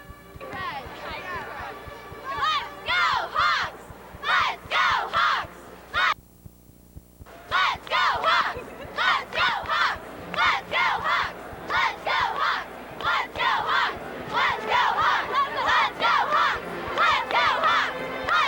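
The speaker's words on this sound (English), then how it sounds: "Give us a big Red Hawks cheer." A gym crowd of high school girls' basketball fans at a 2004 IHSA Class AA semifinal shouts and cheers in repeated rhythmic bursts for the Naperville Central Red Hawks, with a brief lull before the chanting resumes.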